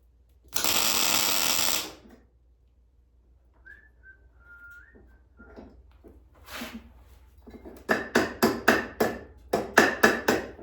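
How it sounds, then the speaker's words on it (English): Steel parts for a home-built diesel-electric submarine being tack welded: a loud, steady buzzing burst of about a second and a half, then quiet, then rapid, regular metallic tapping strikes close by. "Okay, so give that a little tack right there."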